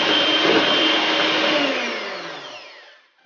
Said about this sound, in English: Then I'll beat it for another 30 seconds.